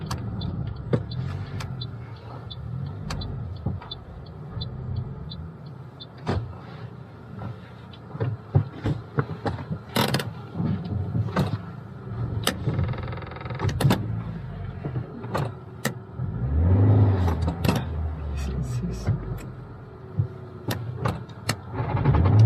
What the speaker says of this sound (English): So you can turn around the car when you're ready.